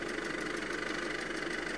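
A mid-mounted engine idles beneath the driver's seat of a vehicle, giving a steady, even, mid-pitched hum with a faint rhythmic pulse for under two seconds.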